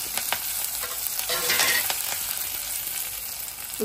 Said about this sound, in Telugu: పెనం పెట్టుకొని ఆయిల్ వేడెక్కిన తర్వాత ఇది వేసుకోవాలి. పొడి వేసుకున్నాం. ఇది కొంచెం బాగా వేగించి